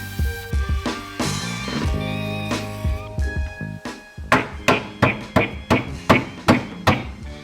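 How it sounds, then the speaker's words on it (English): A hand hammer strikes the sheet metal of a Porsche 911 body in a steady run of loud, ringing blows, about two per second, after some earlier clanking and tapping. "The old hand hammer strikes again."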